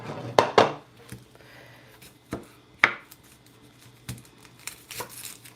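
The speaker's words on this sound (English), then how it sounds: "I'm cutting some onion here" An onion is chopped with a knife on a cutting board, giving several crisp, separate knocks at an uneven pace, close and fairly loud in a quiet room with faint rustling between cuts.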